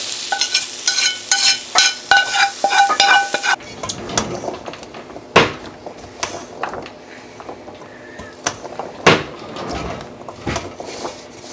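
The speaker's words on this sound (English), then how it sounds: "So I just wanted to kind of saute up the greens a little bit" Greens sauté in a pan, a sizzling fry with scraping and stirring clatter at first, then sparser clacks of a utensil against the pan and occasional sharp knocks.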